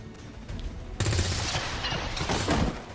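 Gunfire from a soldier's weapon in the turn-based strategy game XCOM 2, a dense loud burst of shots and impacts lasting a couple of seconds over game ambience.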